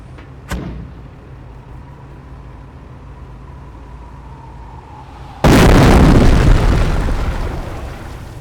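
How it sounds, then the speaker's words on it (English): An incendiary mortar barrage from a half-track in Company of Heroes strikes, a sharp launch crack followed by a faint whistle and then a loud, sustained roaring blast that slowly fades. "Order the mortar half-track to fire an incendiary barrage at the enemy infantry squad."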